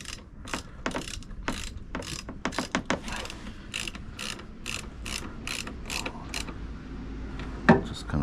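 A hand ratchet snugs bolts on a windshield wiper motor of a 2015 Ford Escape SE, giving repeated quick clicking bursts in uneven groups, close and moderately loud, with a sharper metallic knock near the end.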